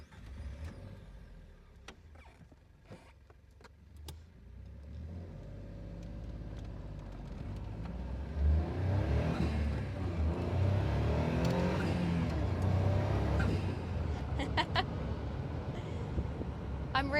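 A Caterham Super 7 600 kit car engine starts up, idles, then revs and pulls away, the drone rising and growing louder over clicks and some road and wind noise.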